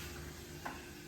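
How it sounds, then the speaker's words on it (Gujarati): Papad deep-frying in hot oil makes a steady, even sizzle close by, with one brief tap of tongs partway through and no voices. "મમ્મી પાપડ તળે છે,"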